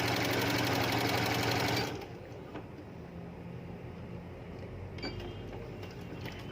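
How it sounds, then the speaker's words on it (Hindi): A sewing machine runs a straight stitch along buckram for a baby skirt belt, a loud, fast, even whirring close by for about two seconds before it stops, leaving quieter handling noises. "अब आपने सीधी सिलाई लगानी है बकरम के ऊपर इस तरह से।"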